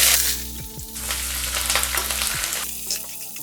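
Chopped onions dropped into hot oil with whole spices for veg biryani sizzle loudly and close by, with a few knocks of the pan or spoon and a burst of crackling near the end.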